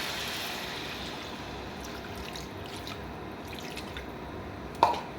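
Water poured into a pan of simmering rohu fish curry makes a steady, soft liquid rush throughout, with a single sharp clink of utensil or pan near the end.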